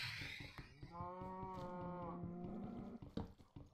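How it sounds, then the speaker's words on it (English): A cow in a 2D craft video game gives one long, clear moo of about two seconds, with faint background noise before and after it. "I hear you, cow!"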